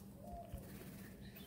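Faint, low cooing from old-line Madrasi high-flying pigeons kept in a loft in Uluberia near Kolkata, a soft brief murmur over quiet room noise.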